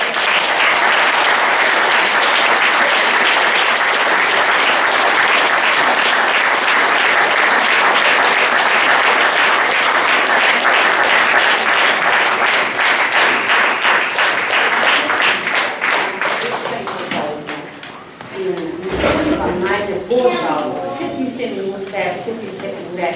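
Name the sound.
audience applause for school drama group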